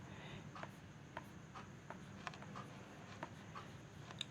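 A pen or marker drawing a diagram on paper, quiet and near: short scratchy strokes and light taps spaced irregularly over a low room hum, with no voice.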